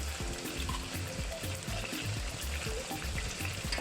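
Spicy broad bean paste frying in a wok for la zi ji gives a steady, close sizzle with crackling and bubbling that runs evenly throughout, with no voices.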